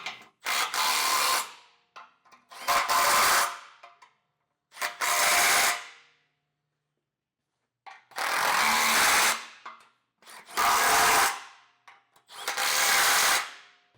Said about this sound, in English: Now we can tighten these down, and then after that we'll tighten our back bolts down.